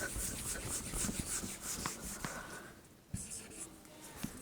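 Chalk or pen scratches a formula onto a board, with soft irregular strokes and taps close by, faint and intermittent, while someone speaks quietly over it.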